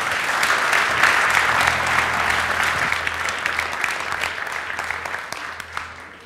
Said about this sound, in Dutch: Maar eerst natuurlijk even een hartelijk applaus voor JJ Blue en Michiel Steltman.